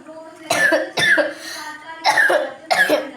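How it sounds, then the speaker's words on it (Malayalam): Four harsh coughs come in separate bursts, close to the listener and fairly loud, with brief quiet gaps between them. "ഇടയ്ക്ക് ചുമയ്ക്കുന്ന ശബ്ദമൊക്കെ കേൾക്കാം"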